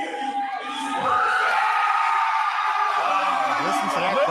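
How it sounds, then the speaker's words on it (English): Crowd at a live show cheering and whooping loudly, a rising mass of shouts, yells and screams that swells after the first second and stays intense, with voices and melodic whoops rising above it. "Listen to that crowd."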